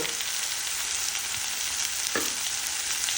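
Mango sweet masala stirred in a hot pan after Kashmiri chilli powder goes in: a steady close sizzle of frying with a brief scrape of the spoon partway through, and no voices.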